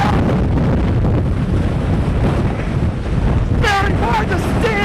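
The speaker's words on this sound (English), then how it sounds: "she throws more wind at you." Hurricane Wilma's roaring wind batters the microphone in a loud, continuous rush with gusting surges throughout, and a voice breaks in briefly near the end.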